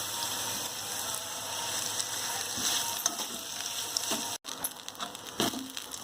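Idli upma made from broken idli bubbling and frying in a pan, a continuous soft sizzle with faint stirring scrapes throughout and no speech.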